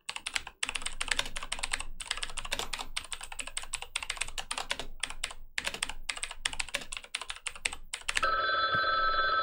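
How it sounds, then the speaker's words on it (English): Rapid, continuous clicking of fast typing on a computer keyboard during an online drawing game, close and steady, ending in a ringing electronic tone. "Nice typing."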